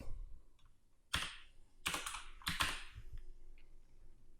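Keys clatter on a computer keyboard as a domain name is entered, in a few close, quick bursts of clicks with short pauses between them, quiet, with no talking.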